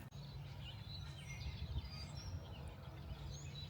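Scattered bird chirps and calls from several birds at a distance, steady and faint over a low outdoor rumble.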